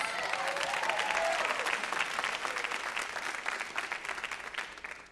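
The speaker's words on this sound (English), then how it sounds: "So round of applause." An audience applauds at the LILA awards ceremony and commencement. Many hands clap in a dense, even wash that starts strong, holds, then thins gradually toward the end of about five seconds.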